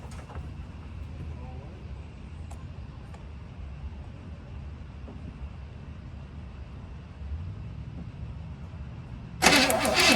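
A 1967 Chevy barn find cranks over with a low, steady churning rumble for several seconds, then turns over with a sudden louder burst at the end.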